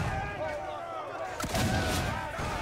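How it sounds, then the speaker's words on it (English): Gunfire from shooting at enemies in Assassin's Creed 4: Freedom Cry, with a couple of sharp shots and booming blasts mixed into steady game ambience and music. "Let's try shooting them."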